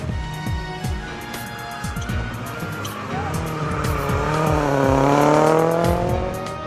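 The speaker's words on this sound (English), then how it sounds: "The cars took to the new Bushy Park circuit for the opening stage of the rally." Rally cars race around the new Bushy Park circuit in Barbados, engines revving and shifting up as they pass, with tyres squealing and skidding, loud and close, swelling toward the end.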